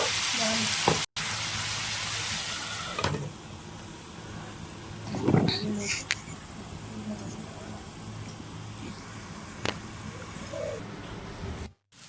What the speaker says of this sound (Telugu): ఇక్కడ ఫ్రై అవుతున్నాయి చూడండి ఆనియన్స్